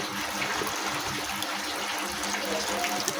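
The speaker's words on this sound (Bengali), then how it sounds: "এই অল্প করে জল দিলাম" A small splash of water poured into a pan of cooking semolina for a salty-sweet spiced dish, a steady soft gushing hiss running through the whole moment with no talking.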